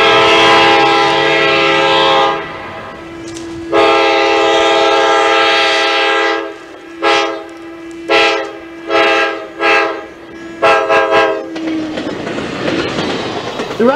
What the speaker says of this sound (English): Amtrak locomotive 364 was equipped with the Nathan K5 LA horn.